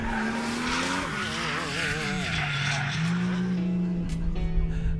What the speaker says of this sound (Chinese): 大家可以看到这边已经很多的这漂移改装漂移车已经在这开始玩了